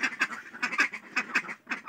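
Ducks quacking in a quick, uneven run of loud, nasal calls, several overlapping bursts close by with short gaps and no talking.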